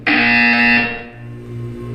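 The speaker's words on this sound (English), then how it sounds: "You will hear a buzzer" A single loud electronic buzzer from the video game Portal 2 blares for about a second, then cuts off, leaving a low hum behind.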